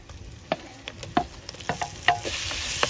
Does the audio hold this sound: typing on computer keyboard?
no